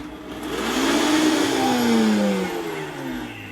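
A powerful Vitamix blender runs loud and close while blending thick spinach ice cream, a steady roaring whir whose motor pitch sweeps downward as it works through the mix.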